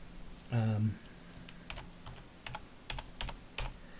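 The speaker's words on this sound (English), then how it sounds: "we should get a console window where we can type our name in" Typing on a computer keyboard to enter a name into a console window, a few scattered key clicks at close range after a short low hum near the start.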